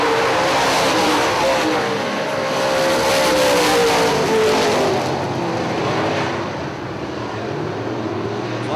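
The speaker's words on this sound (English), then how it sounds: "Like the 7 car, Larry Arndt off the pace on the front stretch." UMP late model race cars roar around the Hartford Speedway Park oval during the 2005 Summer Nationals, a loud continuous engine howl that shifts in pitch as cars pass and then eases slightly.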